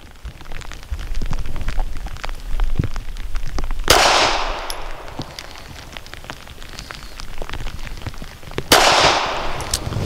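A SCCY CPX-4 pistol fires steel-cased ammunition, with two sharp, loud shots several seconds apart over a crackling, noisy outdoor background.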